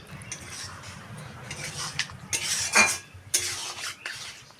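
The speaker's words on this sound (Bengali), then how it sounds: "এবার মশলাটা দিয়ে নেড়ে চেড়ে দিয়ে দেব" Spices are stirred into a cooking pot of raw green tomato curry, with a utensil scraping and clinking against the metal in close, uneven strokes and a few sharper knocks toward the middle.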